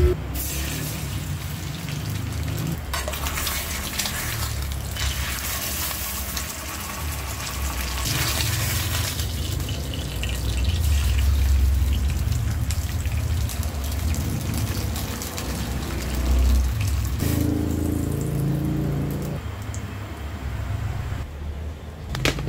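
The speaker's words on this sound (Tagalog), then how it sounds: "Ang sarap ng tunog ng mga prito guys." Steady, dense sizzling of breakfast food frying in a pan, a continuous crackling hiss that swells and eases over time, close and fairly loud.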